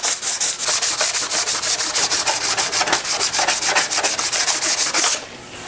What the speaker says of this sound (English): we're just gonna sand those highs to expose the lows